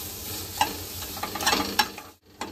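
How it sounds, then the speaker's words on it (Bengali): A spoon stirs spices frying with soft potatoes in a pan over low heat, with gentle sizzling and scraping strokes, a few sharper clinks, and a brief pause near the end, no voices. "এবারে একটু মিশিয়ে নেব যাতে করে না পুড়ে যায়"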